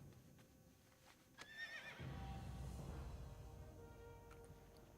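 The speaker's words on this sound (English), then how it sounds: "But we also got a skeletal horse," Skeletal horse mount in the World of Warcraft game Ascension, Conquest of Azeroth, giving one rising whinny near the start, followed by a louder swell of low rumbling game sound.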